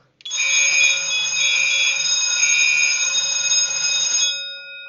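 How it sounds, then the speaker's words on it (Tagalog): A loud fire alarm on an FM200 fire suppression system sounds continuously for about four seconds during testing, a steady high-pitched tone that stops abruptly, followed by a faint tail. "Pause natin kung mag-alarm ba ito."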